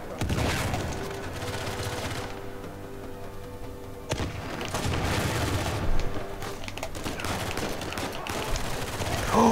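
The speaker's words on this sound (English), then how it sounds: "Who was freaking shooting me?" Gunfire in Uncharted 4 on the hardest difficulty, with dense, continuous bursts of shots and booms. The firing swells and thins over time, and a voice is heard talking over parts of it.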